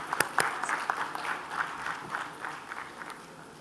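A conference audience applauds during an award presentation, with fairly sparse, moderately loud claps and a few sharp nearby hand strikes that thin out toward the end.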